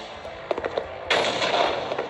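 Gunfire from shooting in the Garten of Banban video game: a few sharp separate shots in the first second, then a denser burst of rapid fire that continues steadily to the end.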